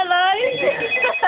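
A telephone rings indoors with a bright, repeating electronic tone, loud and close, while people talk over it.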